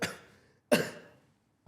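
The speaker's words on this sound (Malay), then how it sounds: "aku ni tadi batuk tak ada air dah kan" Two sharp, close coughs about 0.7 seconds apart, with a third beginning at the end, from a man on a Malaysian talk show with a lingering cough.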